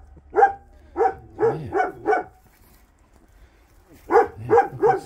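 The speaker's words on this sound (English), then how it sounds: "Come on, puppies." Puppies on a farm barking in short bursts, a run of five quick yips, a pause, then three more, with some whimpering mixed in, close and clear.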